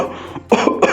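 A woman coughs after white flour is thrown in her face in a drama scene, with a short burst of two or three close, harsh coughs that sound like throat clearing.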